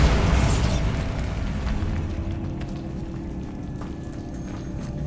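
A Bombarda spell explosion from Hogwarts Legacy erupts with a loud, deep boom that opens the moment and rumbles away into a long, slowly fading roar of debris and echo.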